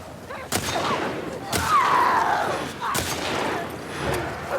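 Gunfire in The Last of Us Part II Remastered's No Return mode, several sharp shots spaced about a second apart over a busy game soundscape, with a voice speaking briefly between them.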